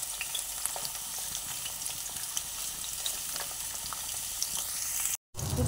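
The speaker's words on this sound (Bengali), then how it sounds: "দিয়ে প্রথমে কুমড়োগুলোকে আমি ভেজে নেব।" Pumpkin pieces fry in hot oil with a steady, dense sizzle and occasional stirring scrapes, close and continuous before a brief dropout near the end.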